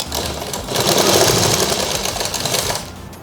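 An electric sewing machine stitches a leg seam on a child's frock suit, whirring in a fast steady run that rises, holds and then slows to a stop.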